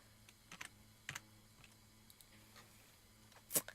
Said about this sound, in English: don't worry about what I'm typing at the moment